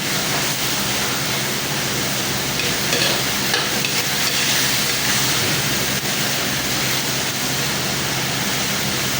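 Tomatoes being mashed and stirred in a sizzling pan while sautéing with kangkong and tofu for adobong kangkong; a loud, steady frying hiss runs throughout with scraping stir noises and no talking.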